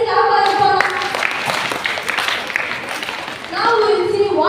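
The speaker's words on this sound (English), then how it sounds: "Everyone clap for it." A class claps for a classmate in a physics lesson, a quick burst of scattered applause that runs for a few seconds, with voices heard at the start and end.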